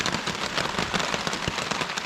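Heavy rain drums on a camping hammock along a river trail, a dense close crackle of many drops with sharp spattering hits throughout.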